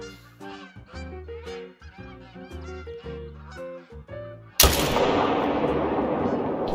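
A single loud gunshot booms in the hunting video game Yukon Valley, followed by a long, rumbling tail. Before the shot, a run of honking, tuneful game tones plays.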